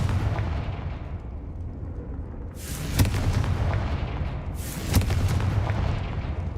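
Confringo fire spell explosions in the video game Hogwarts Legacy: two loud, booming blasts a couple of seconds apart, each with a rushing, rumbling tail over a constant low background rumble.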